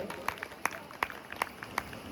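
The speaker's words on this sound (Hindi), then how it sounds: "वही एक बार जोरदार तालियां हो जाए" Sparse, rhythmic hand claps at an anniversary celebration, with a handful of distinct claps spaced roughly every third of a second rather than a full crowd ovation.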